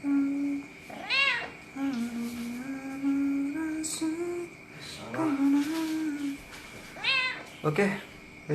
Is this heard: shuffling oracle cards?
no